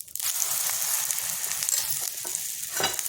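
Dopati flatbread frying in oil on a pan, a steady broadband sizzle that holds unbroken for the whole stretch, with a brief louder flare near the end and no voices.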